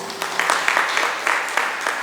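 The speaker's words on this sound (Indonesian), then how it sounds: "Tepuk tangan untuk Tuhan" A church congregation at a Sunday worship service bursts into applause, a dense patter of many hands clapping with a few sharper claps, moderately loud and sustained.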